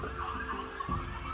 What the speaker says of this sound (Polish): Karetka jechała.